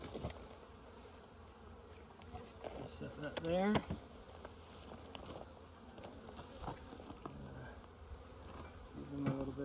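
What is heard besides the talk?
honeybees buzzing around hive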